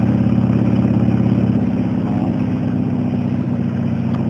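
Motorcycle engine pulling hard in one gear up a steep hill on a twisty Peninsula road near Trout Lake, a loud, steady low bark that holds close throughout.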